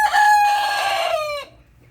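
A single close, loud crow from a chicken kept in a backyard coop, a rising and sustained call lasting about a second and a half before cutting off into near silence.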